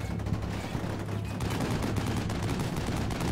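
Dense, continuous gunfire from the Combat Mission Shock Force 2 war game, with overlapping shots and bursts rattling steadily and loudly for the whole stretch and no voices.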